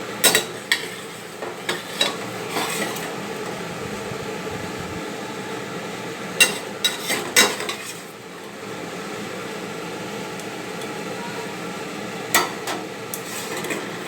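Bengali pabda fish jhol, a thin curry, bubbling in a pan with a steady low simmering hiss, broken by a few sharp clinks and taps of a utensil against the pan.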